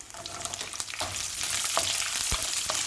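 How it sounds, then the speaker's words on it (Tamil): Fennel, ginger, garlic and green chillies sautéing in a little sesame oil for a Chettinad vegetable white kurma, a steady close crackling sizzle with occasional sharper pops and stirring scrapes, no talking. "முதல்ல மசாலாவுக்கு வதக்கிக்கலாம்."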